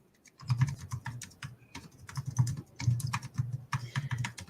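Rapid clicks of typing on a computer keyboard, close and fairly loud, in bursts of keystrokes with brief pauses between them and no talking.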